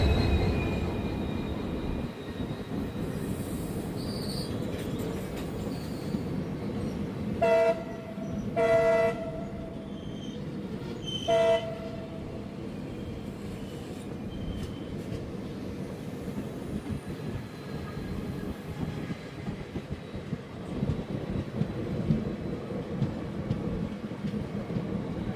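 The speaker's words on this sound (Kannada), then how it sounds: "ಸಿಂಧನೂರು ಯಶವಂತಪುರ ಎಕ್ಸ್ಪ್ರೆಸ್ ವಯಾ ಚಿತ್ರದುರ್ಗ ಬರೋದು. ತುಂಬ ಸ್ಲೋ ಆಗಿ ಬರ್ತಿದೆ ಗುರು" The Sindhanur–Yesvantpur Express rolls slowly past near track work with a continuous low rumble of wagons, and its horn sounds in a few distinct blasts near the middle.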